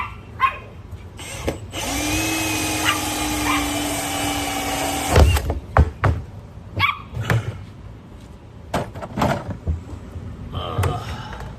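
A power drill with a hole saw grinds through a plastic trash can in one sustained whining cut lasting about three seconds, followed by a dog barking repeatedly in short bursts.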